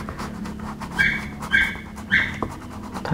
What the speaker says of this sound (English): I hope that this dog doesn't bother everyone.